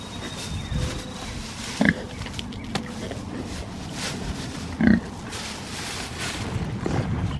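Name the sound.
pigs grunting in a farm pen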